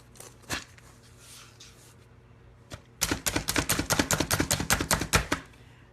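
Dry roasted peanuts being chopped in a hand food chopper, a couple of isolated thuds followed by a quick run of about a dozen sharp, rhythmic plunging chops, loud and close.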